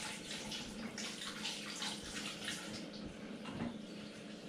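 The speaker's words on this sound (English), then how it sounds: "I'm just washing my hands." Hands are washed under a running tap at a sink, with a steady splashing gush of water and irregular sloshes as the hands move through the stream, close and continuous.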